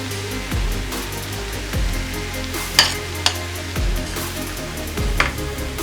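Tomatoes go into a hot pan for a healthy vegetable dish, sizzling steadily while a utensil scrapes and stirs in several separate strokes, with a few sharp clinks, near and fairly loud.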